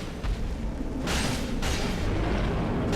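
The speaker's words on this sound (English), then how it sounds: "That's probably big explosion attack." A boss's big explosion attack in Dark Souls III: a loud sustained blast of broadband noise erupting around one second and continuing to the end, over a constant rumbling low game background.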